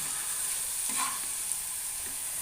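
Bitter gourd pieces frying in oil in a pan give a steady, soft sizzle with a faint crackle that swells briefly, with no one speaking.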